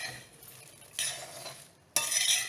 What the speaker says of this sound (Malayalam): നമ്മൾ നന്നായിട്ട് വഴറ്റണം.